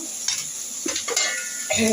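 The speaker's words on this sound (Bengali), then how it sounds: "মাছের তেলটা ভেজে নিচ্ছি" Fish fat frying in a pan gives a steady high sizzle, punctuated by a few brief clinks and scrapes of a utensil against the pan, close by with no talking.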